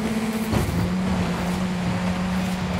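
Engine of an Alumi Craft Class 10 off-road race buggy in Forza Horizon 5, running on off-road tires: a steady, loud, close drone that drops pitch once with a gear shift, then holds high revs throughout.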